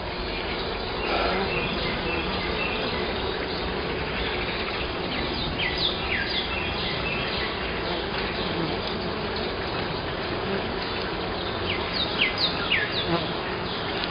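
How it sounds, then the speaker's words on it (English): Dense, steady buzzing of many honey bees in a crowded, congested hive full of cross comb, a close, continuous drone with scattered individual bees whining past, no voices. "With all the bees that we've got in here and all the cross combing that's going on, we are really congested."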